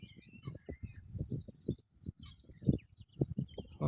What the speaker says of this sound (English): Well, lots of birds singing.